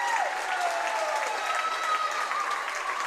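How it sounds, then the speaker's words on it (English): Audience at a junior varsity volleyball game applauding in a gym, a continuous round of clapping at moderate level with a few faint whistle-like tones over it. "Ladies and gentlemen, give all our grandparents a huge round of applause."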